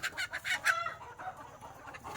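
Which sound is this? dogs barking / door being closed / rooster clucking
rooster clucking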